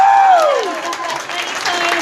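Audience applause for a band during a radio station studio session, a brief burst of clapping with a sung or whistled tone gliding down over it.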